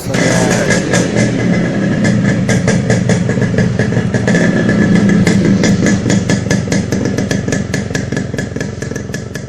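A vintage Yamaha RX motorcycle engine runs steadily at a car museum, with a loud, continuous clattering two-stroke drone and rapid firing pulses holding throughout, close by and without speech.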